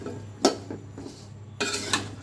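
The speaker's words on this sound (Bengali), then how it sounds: "লাউটা একটু নাড়াচাড়া করে দিচ্ছি।" Tender bottle gourd is stirred in an open cooking pot, with a few sharp metallic scrapes and clinks of a utensil against the pot, separated by quiet pauses, then a longer stretch of scraping near the end.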